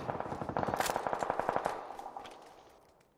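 A rapid burst of automatic gunfire in the shooter game PUBG, a dozen or so close, sharp shots in quick rhythm that fade into a short tail.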